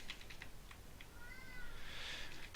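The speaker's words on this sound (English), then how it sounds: "if you can hear that whining in the background, that's my cat" A cat lets out a faint, thin whine in the background of a quiet room, with soft computer keyboard tapping heard at the start.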